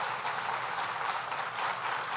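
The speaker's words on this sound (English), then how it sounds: "Let's give him another round of applause." Audience applause at a New York State government event announcing expanded paid family leave, a steady dense wash of clapping that holds at even volume throughout, with no talk over it.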